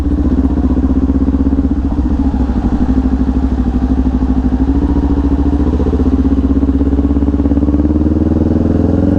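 Big bike motorcycles idle at a coffee shop hangout, a loud, steady, close engine rumble with a continuous low throb and no break throughout.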